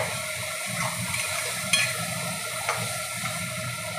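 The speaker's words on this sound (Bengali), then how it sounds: "মশলাটা মোটামুটি কষানো হয়ে গেছে তেল ছাড়ছে" Spice masala for a chicken curry sizzling in oil in a pan, a steady soft frying hiss with a couple of faint clinks, heard alone.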